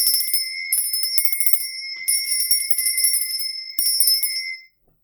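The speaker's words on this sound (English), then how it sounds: "I'm going to be ringing my bell." A small bright bell rung in several clustered bursts, each strike ringing with a clear sustained tone, close and loud, the final ring fading into silence.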